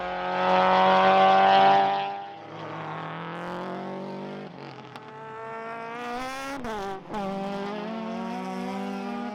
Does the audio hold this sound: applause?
no